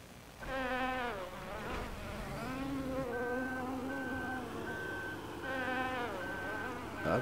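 Insect-like buzzing drones in Farming Simulator 2013, a bee-like hum with wavering pitch that swells, dips and returns, joined midway by a repeating steady electronic beep, fairly loud and continuous with no speech.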